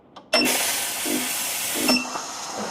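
A Bincoo S1 Pro espresso machine's steam wand is purged, letting out a sudden loud, steady hiss of steam that runs for about one and a half seconds, then cuts to a softer sputter and a second short burst.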